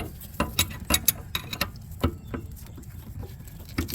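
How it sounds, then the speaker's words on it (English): Line wrench working a brake line fitting on a 2012 Ford Edge Limited, giving scattered metallic clicks and ratchety taps at an uneven pace, fairly close, with no talking. "so I can get a good line wrench on here"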